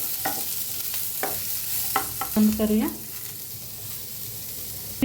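Ingredients being lightly roasted and stirred in a pan for Mysore dosa chutney, giving soft scraping strokes and a faint sizzle, with a short spoken remark partway through.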